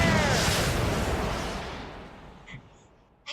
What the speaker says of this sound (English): That's how you fire a rocket launcher.